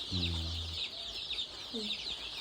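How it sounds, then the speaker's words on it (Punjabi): Soft clucking and faint cheeping from small Black Australorp chicks, a brief low call at the start, over a steady high hiss of background noise. "ਇਹ ਹੈਗੇ ਨੇ ਬਲੈਕ ਐਸਟ੍ਰਾਲੋਪ ਛੋਟੇ ਛੋਟੇ"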